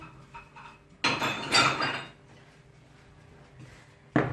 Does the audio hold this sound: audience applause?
no